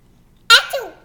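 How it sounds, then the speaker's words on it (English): A young child's sneeze, one sharp close burst followed by a short breathy tail and a faint vocal sound. "You gonna sneeze again?"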